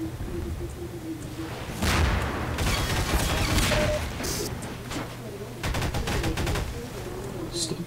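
Gunfire in the video game Half-Life 2, bursts of rapid shots and impacts crackling over continuous background game noise, with denser volleys near the start and end.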